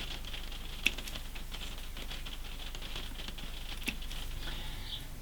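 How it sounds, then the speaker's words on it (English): Rain beginning to fall in a garden, a steady soft pattering hiss with a couple of sharper drips, fairly quiet and without talk. "here comes the rain again"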